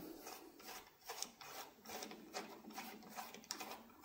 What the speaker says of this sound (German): Und die kann ich dann jetzt auch direkt reindrehen.